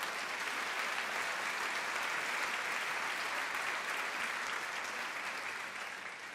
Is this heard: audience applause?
yes